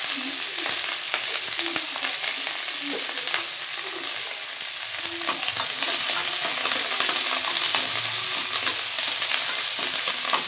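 Garlic, pepper, cumin and curry leaves fry in a pan, a dense continuous crackling sizzle with faint scrapes of stirring throughout, close and fairly loud, no voices.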